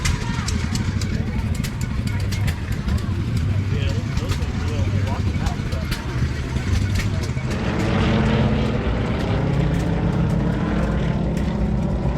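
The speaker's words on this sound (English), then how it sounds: "This aircraft is a Cessna TL-19A." Cessna TL-19A propeller aircraft engine at a fly-in, a steady loud droning hum that swells a little partway through, with outdoor background noise.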